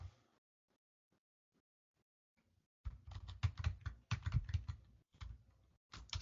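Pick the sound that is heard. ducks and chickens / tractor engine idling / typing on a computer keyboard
typing on a computer keyboard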